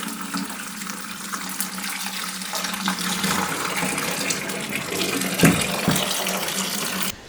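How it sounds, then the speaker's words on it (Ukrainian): Water gushes steadily from a lower tap into a clean container, draining from a brewing still, a continuous splashing rush with a few small knocks near the end. "ми просто злили зараз воду"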